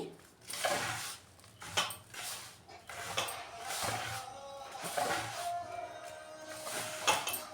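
Ghee being mixed into a sunnundalu laddu mixture in a pot: repeated scraping and clinking of a spoon against metal with irregular rhythm, close and moderately loud, no talking.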